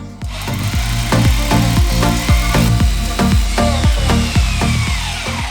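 A power drill bores the first hole into a garage wall, its motor pulsing in repeated surging bursts with grinding bite, loud and close.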